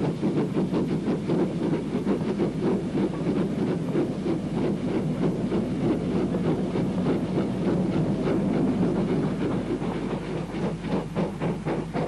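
Duke Dog steam locomotive on the Cambrian coast line hauling empty coaching stock toward Barmouth, recorded close from the cab side: a steady rapid chuff and hiss with rhythmic wheel clatter, loud and continuous throughout.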